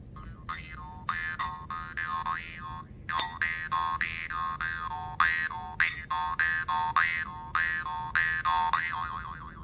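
A jaw harp held against the teeth twangs in quick rhythmic bursts, its bright wavering tone bending up and down, with short pauses between phrases.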